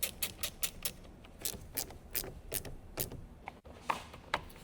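A ratchet driving a 10mm deep socket clicks in quick repeated bursts, with brief pauses between them, as it tightens the battery terminal nuts on a Ford Explorer; the sound is close, fairly faint, and no one speaks.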